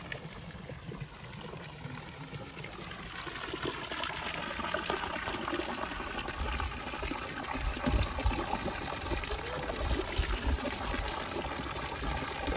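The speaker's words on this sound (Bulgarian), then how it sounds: "Сега ще ви покажа язмото, от което целогодишно извира студената вода." Cold spring water flows year-round from a hillside spring in the Bulgarian countryside, a continuous close trickling and gushing with no voices.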